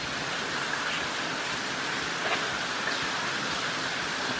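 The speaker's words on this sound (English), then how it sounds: "pour a little bit of half and half in there" Half and half poured into a bowl of egg yolks for a turkey à la king sauce, a steady close hissing trickle that runs unbroken for several seconds.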